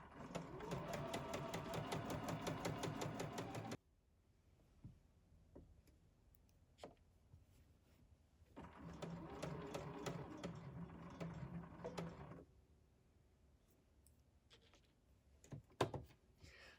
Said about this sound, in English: I am just going to follow the edge of my rolled hem all the way up to the pivot point and then finish my seam.